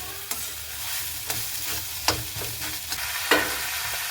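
A soybean filling with grated potatoes is sautéed in a pan, giving a constant close sizzle broken by a few sharp scrapes and taps from the spatula against the pan.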